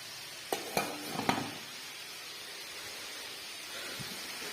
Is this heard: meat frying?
yes